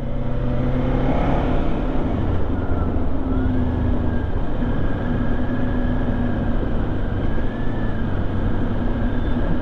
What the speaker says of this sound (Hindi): स्मूथ एग्जॉस्ट एकदम।